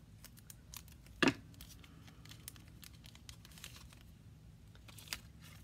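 Cutting open a mailed craft swap package: one short crisp crinkling snip stands out early, followed by quiet scattered rustles of packaging and another light crunch near the end, all faint and close with no talking.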